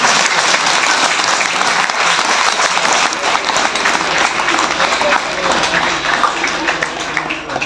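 Audience applause at a Dhamma camp in a Buddhist vihara in Wadegaon, honoring a woman guide: steady, dense clapping from a crowd that carries loudly and evenly through the whole stretch.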